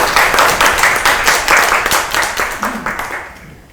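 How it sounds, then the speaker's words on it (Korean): Audience clapping at a local education forum in Goesan, a brisk round of applause from a seated crowd that fades out over a few seconds, with a voice speaking briefly underneath. "박수로."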